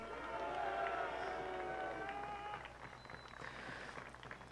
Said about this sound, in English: Ladies and gentlemen, a round of applause for Stephen Owens.